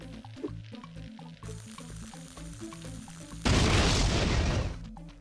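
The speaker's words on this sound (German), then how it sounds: "Asterix darf eintreten, Feuer anzünden und ab geht das" A fire being lit in the Asterix & Obelix XXL video game bursts in as a loud, crackling whoosh that swells suddenly partway through and holds for about a second and a half, over rhythmic game music.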